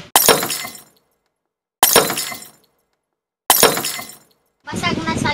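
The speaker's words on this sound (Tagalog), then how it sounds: "Basag na salamin" A mirror shatters three times in quick succession, each a loud, close burst of breaking glass that rings out and fades to silence, followed by a voice speaking.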